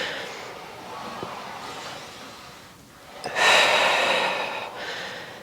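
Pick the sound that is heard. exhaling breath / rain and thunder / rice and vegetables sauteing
exhaling breath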